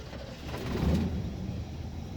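A V8 engine fitted with a lawn mower carburetor runs at a steady, close, low rumble with no voices over it.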